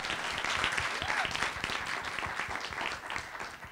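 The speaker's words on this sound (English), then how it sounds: "Wild applause for all 5 fabulous women" An audience applauds five women panelists at an event, a sustained dense wash of clapping at moderate distance, with faint voices mixed in.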